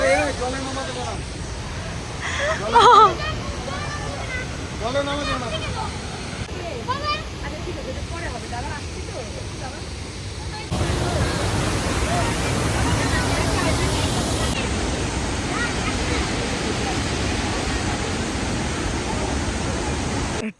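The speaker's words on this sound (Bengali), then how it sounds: "ঝর্ণার আওয়াজ পাচ্ছ?" A continuous rushing roar of a waterfall in Meghalaya, steady and broadband, with people talking over it at first before the water noise grows louder.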